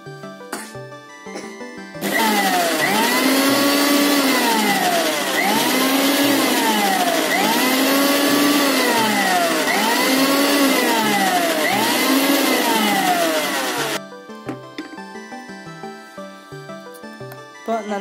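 An electric mixer beating oil into homemade mayonnaise, a loud steady whir with rhythmic rising and falling pitch swoops as it churns, starting and stopping abruptly.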